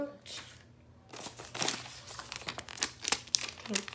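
Close crinkling and rustling of parchment paper packaging in irregular bursts, with a voice speaking faintly in the background.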